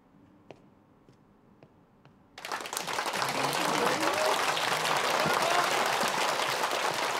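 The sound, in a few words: audience applause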